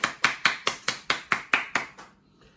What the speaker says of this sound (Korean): 이 두 분 우리가 다 박수로 축하하겠습니다